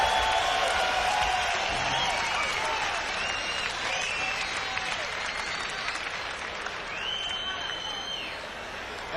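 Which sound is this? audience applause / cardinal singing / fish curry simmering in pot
audience applause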